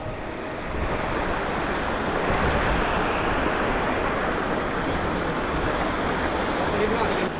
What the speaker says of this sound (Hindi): ये झरना क्रॉस करना पड़ रहा है हमें